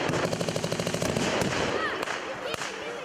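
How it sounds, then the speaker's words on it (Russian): Rapid bursts of rifle fire crack out in quick succession at a battle reenactment with rifles and artillery, then give way to scattered single shots amid noisy outdoor commotion and distant voices. "Здесь то и дело гремят выстрелы от винтовок и артиллерийские залпы."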